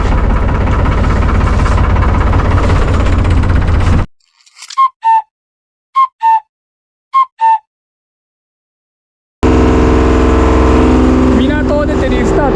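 A fishing boat's engine drones loud and steady while leaving a harbor. It drops out for several seconds, during which a few short, bright chirps sound, and then the engine roar returns at full strength.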